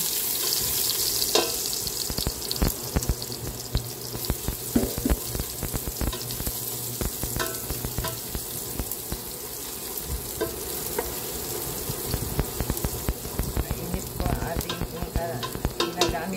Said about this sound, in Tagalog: Atin pong igisa ang ating garlic